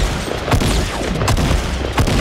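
Gunfire in a Fortnite match, with several sharp shots standing out at irregular moments over a constant dense game background, loud and close with no talking.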